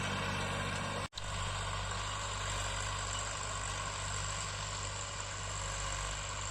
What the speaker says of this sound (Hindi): ये देखो, हमारे चाचा श्री चला रहे हैं ट्रैक्टर।